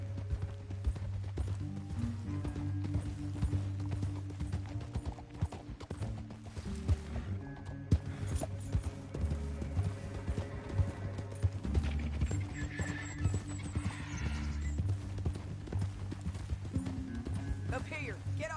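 Rhythmic horse hooves clip-clop over a Red Dead Redemption 2 game soundscape with music, a horse whinnies, and voices talk over the steady trotting.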